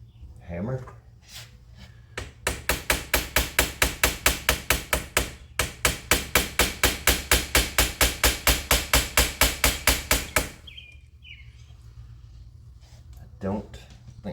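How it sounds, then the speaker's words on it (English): A hammer strikes metal repeatedly in a workshop during cylinder head work, about thirty sharp, evenly spaced blows in two runs, loud and close, with brief talk before and after. "Hammer"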